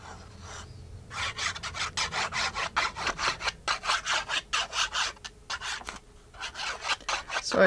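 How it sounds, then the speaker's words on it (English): Paper rubbed by hand over glued notecards, a rhythmic scratchy swishing in quick back-and-forth strokes, close and fairly soft, with brief pauses between bursts and no talking. "Sorry about the noise. It helps to spread the glue."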